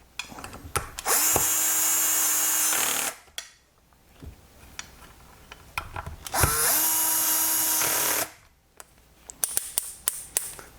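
Two sustained bursts of a power drill driving a socket whir close up, each lasting a few seconds, separated by clanks and tool handling noises, during repair of a HIblow HP80 air pump.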